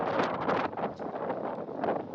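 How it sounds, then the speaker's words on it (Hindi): Strong wind buffets a microphone outdoors at a seaside shrine in Karachi, a steady roaring rush with gusty surges throughout and no other clear sounds. "हवा चल रही है यहाँ पे।"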